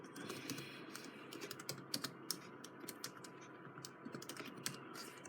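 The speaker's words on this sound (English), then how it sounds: "I type in same thing." Quiet, steady typing on a computer keyboard, a continuous run of light key clicks with irregular rhythm and no voices.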